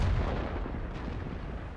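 Booming artillery fire in the World of Tanks video game rolls out as a loud, continuous low rumble with a heavy onset, heard alone with no talk.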